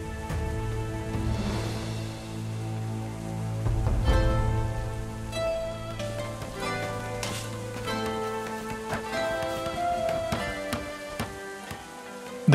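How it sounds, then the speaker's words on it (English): Hailstorm in the medieval colony game Going Medieval: a constant pattering hiss of hail over a bed of sustained game music, with soft irregular ticks scattered throughout. "Another hailstorm. Seems to be typical East Avon weather."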